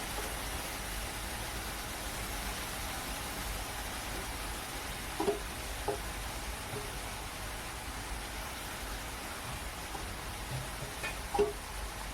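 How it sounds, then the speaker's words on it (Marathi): Grated carrots hitting a hot pan over a low gas flame for Indian carrot halwa, making a steady broadband sizzle with a couple of faint clinks, continuous and close. "गॅस लो करतो तर टाकूया आपण किसलेले गाजर"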